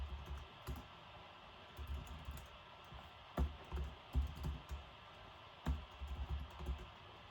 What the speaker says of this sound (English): So let me type this out.